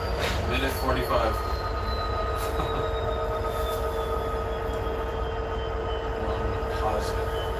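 A slow-moving freight train with a continuous rumble and prominent squealing, whining wheels drawing long tonal lines, heard nearby and loud, with faint voices underneath.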